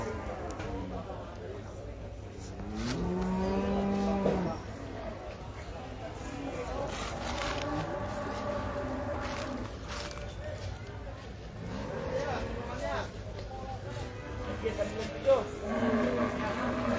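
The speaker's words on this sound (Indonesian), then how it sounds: "Dan ini adalah sapi-sapi yang dijual belikan" Cattle low at a busy livestock market in Tanah Laut, a few moos rising over a steady crowd murmur, with people talking nearby throughout.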